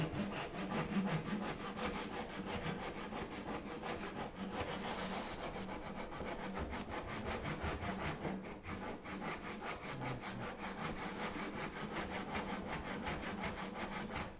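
Hand saw cutting relief kerfs in a wooden workpiece for a Moxon vise, a close, steady run of rhythmic back-and-forth rasping strokes with no talk.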